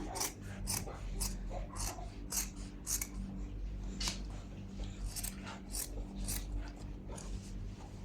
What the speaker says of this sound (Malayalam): പതിനാറ് ഇഞ്ചിൽ ഞാനിത് കട്ട് ചെയ്യാൻ പോവാണ്